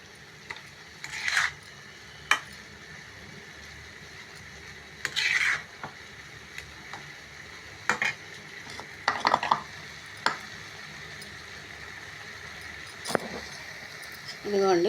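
A spoon stirs flattened rice (atukulu) prasadam in a pan with a few scattered scrapes and clinks, spaced out and close by, against a quiet background hiss.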